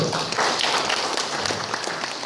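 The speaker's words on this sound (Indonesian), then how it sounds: "Tepuk tangan untuk beliau." Audience applause at a Bawaslu launch event for an election vulnerability index, a brief dense burst of clapping from a crowd, loud and steady throughout.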